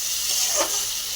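Boiled banana flower mixed with turmeric sizzles as it is sautéed in a pan, giving a steady, close hiss with a brief swell in the middle.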